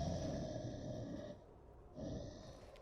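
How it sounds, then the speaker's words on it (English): Deep, heavy breathing sounds faint in the background as two long, rough breaths separated by a short pause. "That's like super deep, heavy breathing or something."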